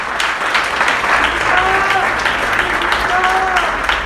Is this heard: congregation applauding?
yes